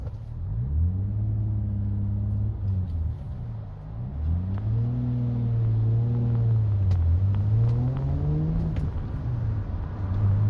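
A manual-transmission Toyota engine hums as it cruises, then dips and rises with quick throttle blips as the driver rev-matches downshifts into lower gears. The engine braking is heard as several smooth pitch swoops, steady and close, with no talk over it.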